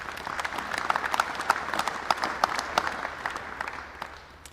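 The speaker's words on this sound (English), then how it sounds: "Can we give them a round of applause, please?" An audience at a university white coat ceremony claps for inducted chapter members, with many distinct hand claps standing out in a lively round that tapers off toward the end.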